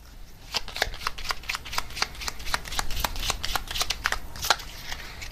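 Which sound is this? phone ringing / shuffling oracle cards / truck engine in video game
shuffling oracle cards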